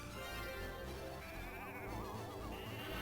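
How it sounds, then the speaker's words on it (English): Horned rams bleat in the video game Final Fantasy Tactics Advance, with several wavering bleats over a steady game background and no talking. "Those are clearly rams."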